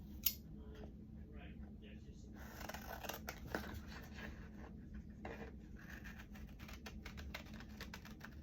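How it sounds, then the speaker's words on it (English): Scissors snip through glossy junk mail paper, cutting out egg shapes in a quiet indoor craft setting. Faint, irregular crisp snips and paper rustles sit over a low room hum. "I'm gonna cut out the Easter on the eggs."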